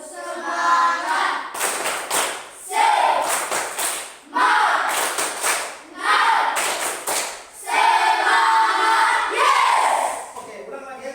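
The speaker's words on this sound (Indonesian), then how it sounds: "Kita mulai tepuk semangat ya." A group claps in bursts of rhythmic patterns during a spirit-clap icebreaker in a classroom session, several loud sequences separated by short pauses, with voices chanting along between the claps.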